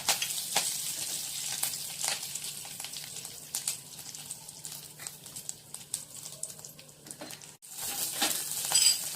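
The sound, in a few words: sautéing cumin, peanuts and curry leaves in a pan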